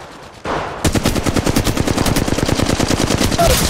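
Rapid automatic gunfire from Apex Legends Mobile, loud and close, with a short burst followed by sustained fast bursts that continue almost without pause to the end.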